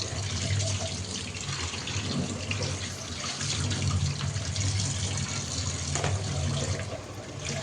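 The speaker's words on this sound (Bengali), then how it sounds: "এখন ধুয়ে নিচ্ছি।" Tap water running at a kitchen sink while chopped bottle gourd is rinsed, a steady splashing stream with light clatter of pieces being handled, close and constant throughout.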